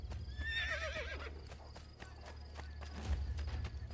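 A horse in the video game Assassin's Creed Brotherhood gives a wavering neigh early on, followed by a run of clip-clopping hoof steps over a low rumbling background.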